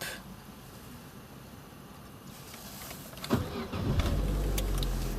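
A 2002 Opel Corsa C 1.2 16V engine cranks and catches around three seconds in, then settles into a low, steady idle after a quiet stretch of background noise.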